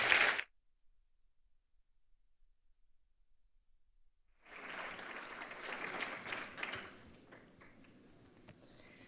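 Applause from an audience at a cultural foundation presentation in Spain starts after a short burst at the very beginning and a long quiet stretch, building to a moderate, steady clatter of clapping that thins out toward the end.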